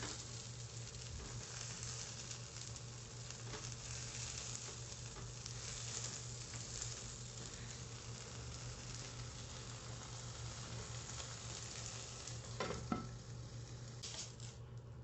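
Eggplant cooking in a little oil in a pan, a steady low sizzle running throughout with faint scrapes as the pieces are turned now and then.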